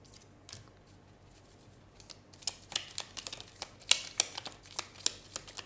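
A large deck of tarot cards is split and shuffled by hand, with quiet rustling at first, then a run of crisp, snappy flicks and riffles up close, no voices.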